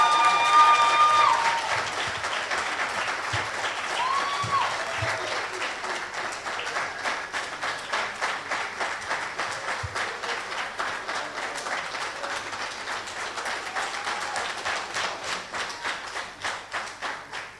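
Audience at an advocacy, language and liberation conference applauds steadily, a dense wash of many clapping hands that thins toward the end into a more rhythmic, patterned clapping, fairly close and without speech over it.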